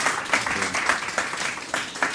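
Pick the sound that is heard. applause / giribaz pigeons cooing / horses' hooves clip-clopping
applause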